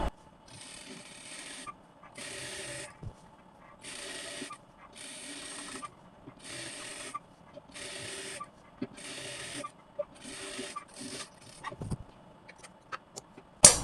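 A sewing machine stitching a petticoat in a run of regular bursts of rapid mechanical whirring, each lasting about a second and separated by short pauses, with faint handling noises between them.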